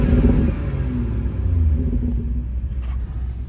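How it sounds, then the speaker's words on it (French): BMW M140i exhaust in Sport Plus mode with the valves open, a deep, steady low rumble close by that fades slightly toward the end, with no talking. "je vais vous faire écouter le bruit en Sport Plus puisque ça ouvre les valves."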